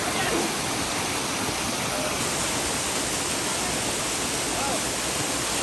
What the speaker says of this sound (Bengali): এই হচ্ছে সেই টপের যে ঝর্ণা, এখান থেকে পানি নিচে পড়ছে